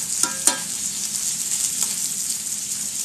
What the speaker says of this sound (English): the salmon is being fried just in extra virgin olive oil